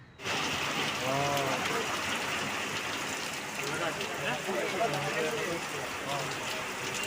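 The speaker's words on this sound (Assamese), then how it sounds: "আজি কেম্বা বৰষুণ দিছে" Steady rain pours outside a village home, a dense continuous hiss filling the whole stretch, with a voice talking faintly in the background.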